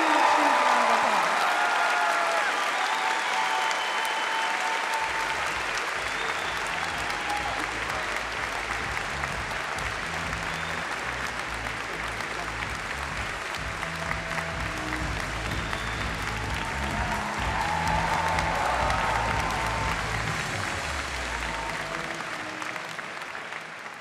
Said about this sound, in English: So please give Greg a huge, huge, huge, huge, huge round of applause.